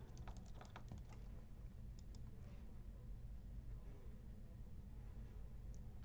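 Typing on a computer keyboard while entering a search: soft, quick key clicks in short clusters, faint against a steady background hum.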